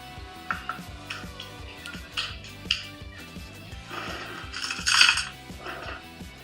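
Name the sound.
mixing orzo pasta salad in a dish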